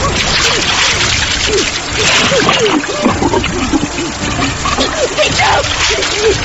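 Water rushes and splashes forcefully through a room in a horror story, a loud, churning surge with repeated sloshing bursts that continues throughout.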